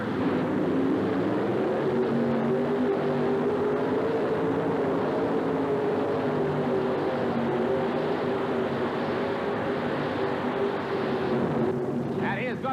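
A 4wd pulling truck runs under full throttle during a 1988 truck and tractor pull in Birmingham, its steady loud engine roar sustained throughout while an announcer talks over it.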